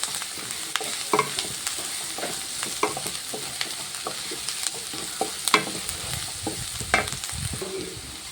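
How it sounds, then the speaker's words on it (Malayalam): Onions, ginger and garlic sauté in a pan for a chicken curry, giving a steady close sizzle with repeated scraping stirs of a spoon against the pan throughout; no one speaks. "അപ്പോൾ നമ്മുടെ സബോള പാതി വഴന്ന് വന്നിട്ടുണ്ട്."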